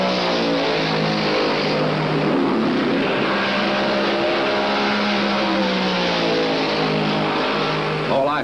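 1969 NASCAR stock cars at the Southern 500 racing at nearly 150 mph, a loud continuous engine roar with overlapping droning tones that rise and fall as the cars pass, sustained without pause for the whole stretch.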